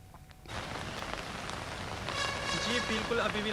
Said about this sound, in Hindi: अभी भी लगातार बारिश हो रही है, रात से लगातार बारिश।